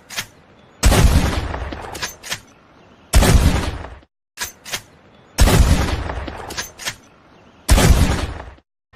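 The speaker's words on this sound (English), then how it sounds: "the high-powered pump-action shotgun is a powerful weapon should you find yourself confronted by a wild beast or enemy in close combat" Pump-action shotgun from Red Dead Redemption 2, fired four times at a steady pace, each loud close blast followed by a short pump-action clack and a decaying tail, with no talking.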